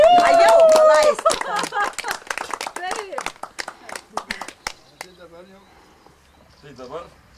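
Applause at a museum opening comes as a dense burst of clapping that thins into scattered claps, with voices and other sounds of the room around it.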